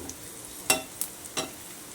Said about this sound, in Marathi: सगळीकडे तेल मारून घातले की भाजतात चांगले